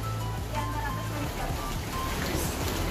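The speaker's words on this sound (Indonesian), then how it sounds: "Hujan nih." Steady rain pours outside a coffee shop in Bandung, a dense continuous hiss of drops on surfaces with low traffic rumble beneath.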